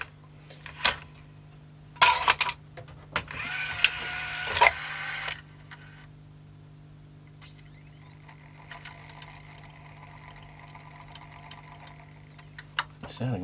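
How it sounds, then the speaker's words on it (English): A 1988 CDC640 CD player mechanism with a rattly mech gives quiet clicks and clattering knocks, then settles into a faint, steady whirring hum. "Sounding a bit rattly in the mech there somewhere"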